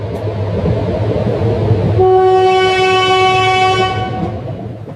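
A train at a railway station in Guntur sounds a long, loud horn that holds steadily for about two seconds over the rumble of the rail platform, then fades away.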